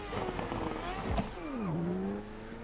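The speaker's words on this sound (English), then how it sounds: "obviously it sounds like a V8" A formula car's V8 engine in a racing video game, modeled on a 2013 car, revs steadily, drops sharply in pitch as it slows, then climbs again and holds a strained, rising whine.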